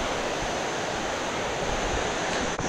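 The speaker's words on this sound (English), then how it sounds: "It's mesmerizing to hear the sounds of water falling, wind blowing, the birds." Water pours down a waterfall in Habarana, Sri Lanka, a loud, steady, hissing rush filling the brief moment without voices.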